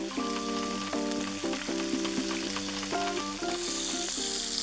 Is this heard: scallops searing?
yes